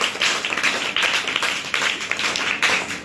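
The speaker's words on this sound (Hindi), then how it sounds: "ताली बजाओ सबके लिए।" Group of children clapping together in a classroom, a quick, slightly uneven burst of hand claps, close and fairly loud, with no talk over it.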